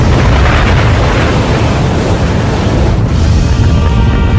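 A comet slams into the open ocean, setting off an enormous, sustained roaring explosion. The deep rumble is loud and continuous, with churning water noise and no speech.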